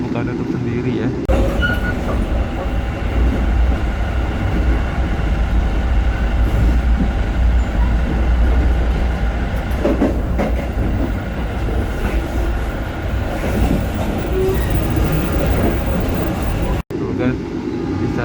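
Inside the Malabar train travelling from Yogyakarta to Bandung, a loud, steady rumble of wheels and carriage noise fills the cabin, with a brief cut near the end and a person talking over it.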